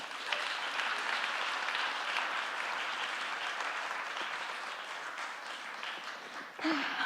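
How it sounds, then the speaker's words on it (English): At a climate change summit awards on an outdoor green stage, the audience gives itself a round of applause: a sustained, even wash of many clapping hands, fairly faint and distant, tapering and breaking off near the end. "please give yourselves a big round of applause"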